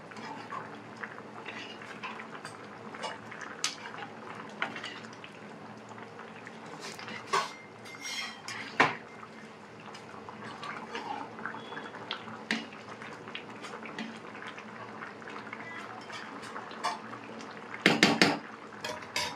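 Chole paneer masala with mixed spices bubbling in a pan, a steady low simmer running throughout with clinks of utensils and a brief louder clatter near the end, no talk.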